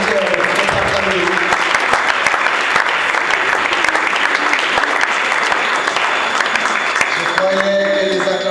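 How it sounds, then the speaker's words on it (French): A large crowd gathered to honour a church minister claps loudly and continuously, a dense, steady applause that carries on throughout. "Je croyais que les acclamations allaient être plus que ça."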